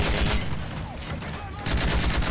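Gunfire in the Call of Duty Modern Warfare 3 video game: dense automatic weapon bursts in rapid clusters, loud and close, briefly easing mid-clip before heavy firing resumes.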